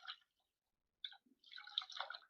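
Cut pieces rinsed by hand in a bowl of water give short, close, quiet splashes and drips in separate bursts with silence between them.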